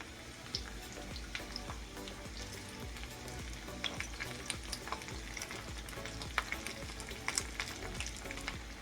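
Potatoes and onions fry in a pan with a continuous close sizzle and crackle, punctuated by occasional sharper pops and light scraping or stirring sounds; no voices.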